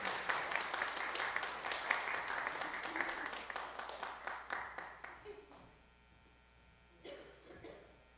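An audience in a church breaks into brisk applause that stays dense for about five seconds, then thins out and fades. A short second burst of claps follows near the end.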